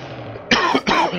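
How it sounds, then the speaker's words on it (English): A person with a lingering cold coughs twice in quick succession, each harsh and close, over a faint background hum during a Splatoon 2 Salmon Run session. "Sorry for my coughing there, just still getting over a cold."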